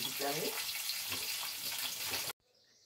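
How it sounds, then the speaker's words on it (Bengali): Fish frying in oil in a nonstick pan for a shol fish kalia, a steady broadband sizzle with a little talk underneath that cuts off abruptly near the end. "আমি ওদিকে মাছটা ভেজে নিচ্ছি ননস্টিকে"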